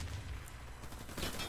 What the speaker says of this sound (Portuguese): Se você dá dois tiros mirando, não sei, cara.